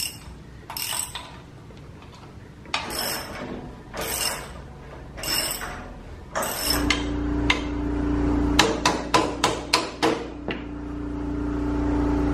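Sharp, ringing hammer blows on metal while a hot rod's rear axle and suspension go in: a few scattered strikes early, then a quick run of about six close, loud hits over a low background hum.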